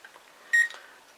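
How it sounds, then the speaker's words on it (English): A single short electronic beep from an SCX slot car lap timer rings out over a faint, steady background hum, with brief quiet before and after. "if you hear second beep, that means you've done a faster lap than before"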